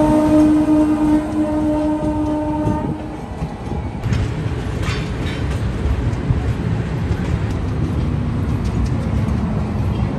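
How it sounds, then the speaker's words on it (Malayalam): A sleeper class train running into Bhopal at the town limits, with a loud steady rumble and rhythmic wheel clatter close by and a horn-like tone fading early on. "ടൗൺ ലിമിറ്റുകളിലേക്ക് ട്രെയിൻ കയറി തുടങ്ങി"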